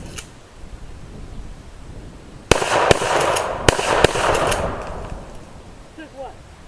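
A Mossberg 500 shotgun fires about four sharp, loud blasts outdoors at a tree, spaced roughly half a second to a second apart, each with a short ringing decay over low background noise.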